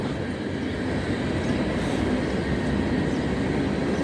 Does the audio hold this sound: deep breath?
no